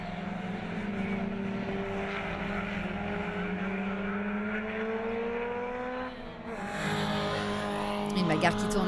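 Historic race cars battle at the Ledenon circuit, engines droning with a rising pitch as they pass, under French commentary, with a louder burst of engine noise near the end.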